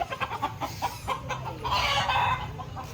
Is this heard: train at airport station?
no